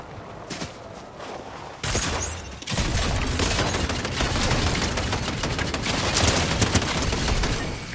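Dense, continuous gunfire in a video game, with a bursting onset near two seconds that rolls into sustained rapid fire through to the end, loud and close with no talk.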